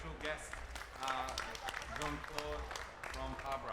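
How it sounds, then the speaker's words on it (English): An audience applauding chefs and a special guest at a live cooking event, a muffled, modest round of clapping mixed with crowd noise and talking voices on top. "a big round of applause for our chefs and our special guest"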